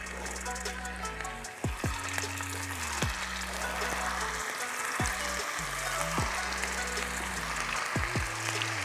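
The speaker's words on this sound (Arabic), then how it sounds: "مع صوت الطشة دي الطشطشة دي يعني" Food sizzles and spatters steadily in a single frying pan during home cooking of an Iraqi dish, a dense continuous crackle throughout, with a low pitch-sliding hum and faint voices in the background.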